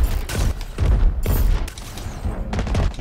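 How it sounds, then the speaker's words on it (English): Rocket launcher fire in an online video game, with repeated heavy booms and blasts in quick succession, loud and close, forming a dense burst of explosions with short gaps. "Switch to my rocket launcher."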